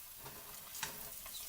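Lumpia, Filipino egg rolls, frying in a pan while being turned, a steady close hiss of oil with a few soft scrapes and taps from the turning.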